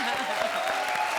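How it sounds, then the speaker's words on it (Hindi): Loud, dense studio audience applause at a comedy show, a continuous wash of clapping for the whole short stretch with no break. "जोरदार तालियां इनके लिए।"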